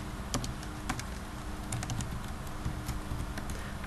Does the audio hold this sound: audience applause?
no